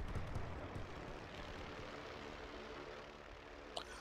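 WWI biplanes flying over the Western Front in the strategy game The Great War: Western Front, a steady faint propeller drone with a brief click near the end.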